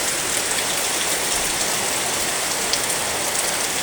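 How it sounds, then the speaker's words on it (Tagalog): Steady, heavy rain hisses continuously with a dense wash of drops, fairly loud and close, with no voices. "babalik na namang ulan oh. Malakas."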